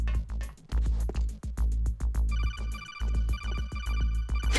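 Electronic phone ringing inside Metal Gear Solid: The Twin Snakes, a bright repeating trill that cuts in partway through over steady game music with heavy bass pulses.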